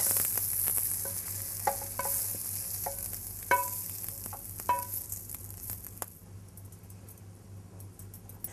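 Jackfruit sizzles in a hot pan, a bright hiss that gradually fades while several sharp utensil clinks and taps ring out over the first half.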